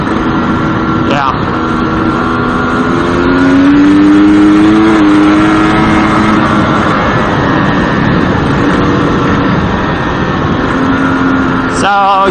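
A GasGas EC300 two-stroke dirt bike engine drones steadily while being ridden on an evening road near Yerington, loud and close with rising and falling revs and wind noise throughout.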